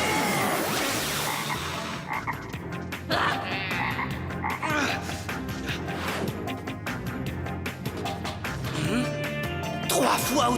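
A cartoon toad croaks in loud, repeated ribbits amid busy animated sound effects and crashes, with a voice speaking over parts of it.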